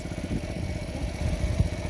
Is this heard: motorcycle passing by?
yes